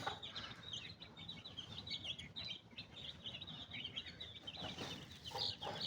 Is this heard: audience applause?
no